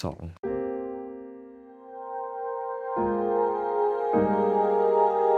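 A Yamaha MODX M synthesizer pad, transposed up an octave, holds sustained chords that change twice and grow fuller with each change. A brief voice is heard at the very start.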